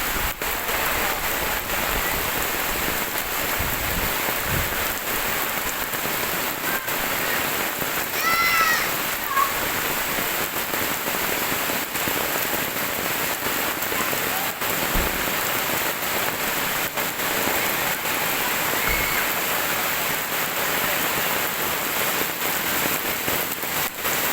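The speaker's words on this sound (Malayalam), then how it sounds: "നല്ല മഴ ഇങ്ങനെ പെയ്തുകൊണ്ടിരിക്കുകയാണ്" Heavy rain pours down steadily, a dense continuous hiss of drops on surfaces, with a faint bird call briefly rising above it.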